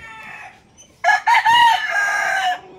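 A white Kelso gamecock rooster crows once, loud and close, its full call rising after a short stretch of softer background noise and trailing off near the end.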